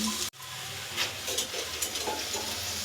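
Onions fry for pulao in a pan, a steady close sizzle with light stirring scrapes after a brief break near the start.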